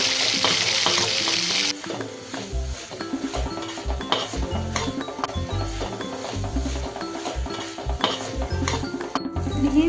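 Mutton frying on a tava over a high flame and stirred continuously, a loud steady sizzle with rhythmic spatula scrapes and clinks against the iron surface, close up and without talk.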